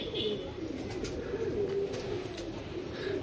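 Pigeons kept by a fancier in a loft, soft low cooing running steadily throughout at moderate distance amid a continuous background hum.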